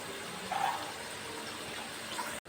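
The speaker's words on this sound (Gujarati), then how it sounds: "બાકીની જે પેસ્ટ હતી એમાં પણ આપણે પાણી નાખી અને મિક્સચર નાખી દઈએ" Water poured into a tomato-onion paste in a pan while cooking paneer butter masala, a soft close splashing gush that swells briefly early on, then settles into a faint steady trickle.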